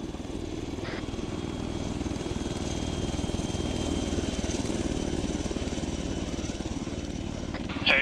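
A Chinook helicopter in Arma 3 drones steadily with a low, thrumming rotor, holding a constant, moderately loud level throughout. A faint voice and a brief knock break through near the end.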